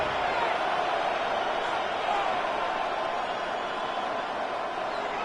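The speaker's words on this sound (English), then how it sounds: "This crowd turning up the decibel level." Football stadium crowd roaring on third down at a Browns vs Bears NFL game, a steady, distant wash of cheering and noise holding at a constant level throughout.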